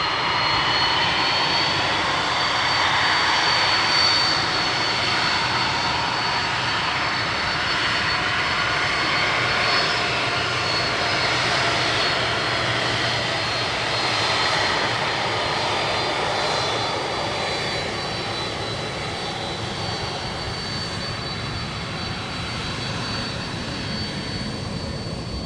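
An airliner departs runway 17 at Minneapolis–St. Paul Airport, its jet engines producing a loud, sustained roar with a whining high tone that holds steady, then slowly eases as the plane climbs away; no voices.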